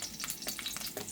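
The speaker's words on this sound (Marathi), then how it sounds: "सो हांव आतां हातून करीपत्ता घालता." Curry leaves hit hot coconut oil in a pan for a gravy, giving a quiet, crackling sizzle with quick spits and pops over about a second.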